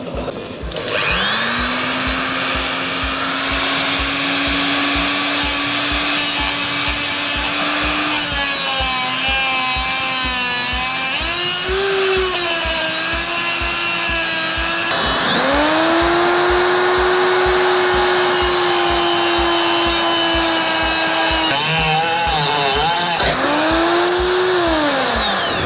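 A power tool grinds through the drive chain of a Tenere 700 motorcycle with a loud, sustained high whine and a rapid ticking rattle, pitch dipping and recovering as it bites into the metal, with no talking.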